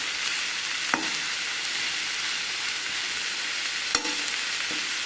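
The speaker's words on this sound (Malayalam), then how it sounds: "ഉപ്പിട്ട് കൊടുത്തിട്ട് നമുക്കതൊന്ന് ഇളക്കി മിക്സാക്കിയിട്ട് ഒന്ന് അടച്ചു വെക്കാം" A stinging nettle dish with salt being stirred in a pan: a steady broadband sizzle with a couple of brief scrapes of the spoon against the pan.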